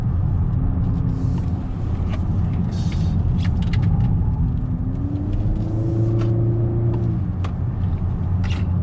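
A 2019 Honda Accord Sport sedan with a 1.5-liter turbocharged engine drives along with a loud, steady engine drone and road rumble heard from inside, the pitch rising as it speeds up.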